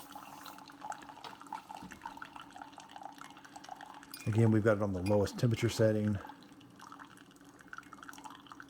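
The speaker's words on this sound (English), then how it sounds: "So you can see that water, when it's coming out, it's super hot, but it cools off so quick when it gets in the coffee cup." A Keurig K-Supreme Plus trickles and drips hot coffee into a cup, faint and steady, while a person talks close by over the stream.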